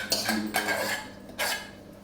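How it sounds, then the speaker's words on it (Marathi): Household dishes, pots and cutlery clatter during washing, with a few close, sharp bursts of clinking metal and crockery over a short stretch and no voices. "मला एवढी भांडी धुवायची आहेत घरात,"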